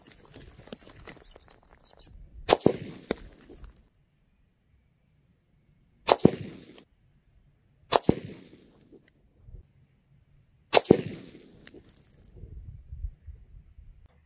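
Tikka T3 Hunter bolt-action rifle in .223 Rem fired with new brass, four sharp, loud cracks spaced a few seconds apart, each followed by a short outdoor echo and a quiet gap between shots.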